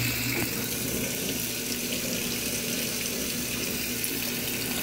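GE washing machine (model GTW680BS6JWS) filling with hot water for a jeans cycle, a steady rushing gush of water pouring in close by, unbroken throughout.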